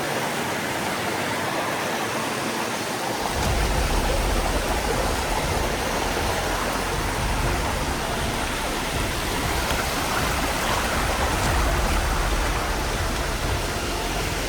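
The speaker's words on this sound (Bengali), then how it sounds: "এটা ঝর্ণার ধারা, আমাদের পাশ দিয়ে গেছে" Water of the stream at Khoiyachora waterfall in Mirsharai rushes in a steady, dense roar that fills the whole stretch without a break.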